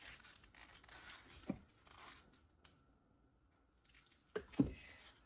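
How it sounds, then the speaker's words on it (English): A plastic piping bag of epoxy resin being twisted with soft crinkling, then a quiet pause and a couple of close snips and rustles as its tip is cut off. "Just twisting the bag over here. Cut a little tip off."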